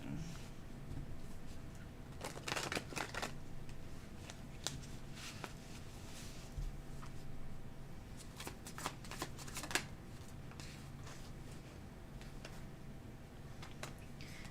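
A deck of tarot cards being shuffled by hand during a reading. Soft, quiet riffling and flicking come in short clusters over a faint background.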